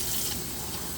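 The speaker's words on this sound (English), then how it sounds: "even turn the water on kind of lukewarm, probably not hot, but lukewarm" Lukewarm tap water streams steadily from a faucet into a sink over tomato seeds, a continuous broadband rush that stays close and even throughout, with no voices.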